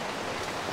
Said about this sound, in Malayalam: മഴ തന്നെയുണ്ടാ